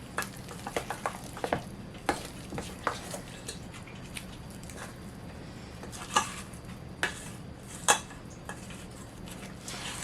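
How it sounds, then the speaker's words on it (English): A spoon works sourdough starter into flour in a bowl, with soft scraping and mixing under a steady kitchen hiss, broken by sharp knocks and clinks against the bowl that grow a little louder near the end. "I want to stir it so that there's no dry flour left and so that the sourdough starter is all incorporated"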